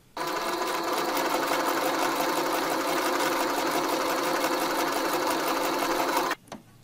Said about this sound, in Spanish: Coso más hacia un lado y hacia otro de los pastelones para que ya me queden aquí sujetos.